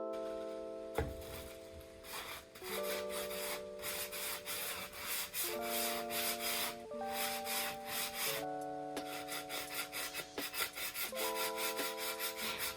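Rough raised areas on a thrifted table being sanded by hand, a continuous scratchy rubbing in steady back-and-forth strokes, close and fairly loud, with quiet background music underneath.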